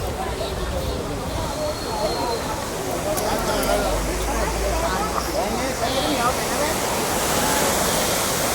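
A village stream runs steadily nearby, a continuous broad rush of flowing water, with people talking over it.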